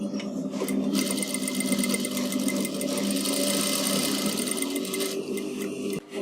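A sewing machine runs steadily while stitching blouse fabric, a continuous close mechanical whir that holds an even rhythm throughout and drops off briefly at the very end.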